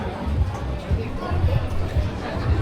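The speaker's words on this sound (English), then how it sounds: "we'll kind of get through this crowd if we can." A dense crowd murmurs along the busy Saint-Tropez waterfront, with overlapping nearby voices forming a steady babble at moderate loudness.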